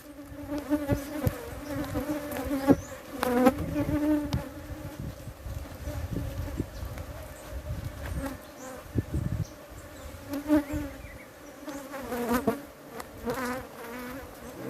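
Honeybees swarm and buzz around a beehive while giant hornets attack, making a dense, steady drone close to the listener with rising and falling swells and no voices.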